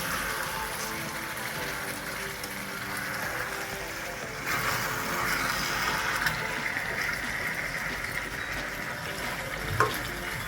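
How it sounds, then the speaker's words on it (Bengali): Biryani fries in oil in a pot and is stirred now and then, giving a steady, close sizzle with soft scraping that grows slightly louder midway, with no one speaking. "একটু আমি নাড়িয়ে দেবো যাতে নিচে বসে না যায়।"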